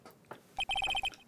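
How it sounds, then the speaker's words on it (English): A phone ringtone from a video game plays a short, quick run of bright electronic beeps in an even rhythm, fairly quiet and heard alone. "what's with this stupid-sounding ringtone?"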